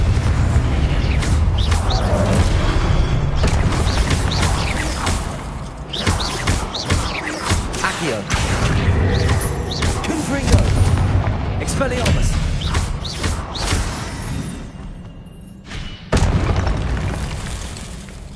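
Confringo explosion spells in the Hogwarts Legacy video game go off as repeated booming blasts and bursts amid dense combat noise, loud and continuous, with a voice speaking over the action.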